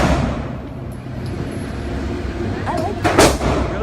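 Single handgun shot, probably a .22, a sharp loud crack late in the clip after a stretch of outdoor background rumble, near and brief.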